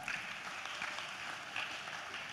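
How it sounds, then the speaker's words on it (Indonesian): Audience applause for university students at a panel discussion, a steady dense wash of clapping that carries on without a break at moderate level. "Tepuk tangan untuk adik-adik mahasiswa."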